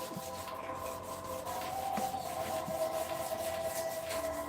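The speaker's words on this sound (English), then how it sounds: "I've already started sanding this inside" Steady scratchy rubbing of sandpaper worked back and forth by hand, close up and continuous, with faint background hum and no talking.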